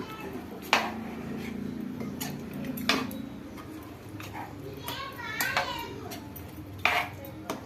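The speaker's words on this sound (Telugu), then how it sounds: "ఇప్పుడు పెద్ద మంట పెట్టుకొని కలబెట్టుకోవాలి" A spoon stirs curry in a pot over a high flame, giving scattered metallic clinks and scrapes under a low background rumble, with voices and children audible in the room.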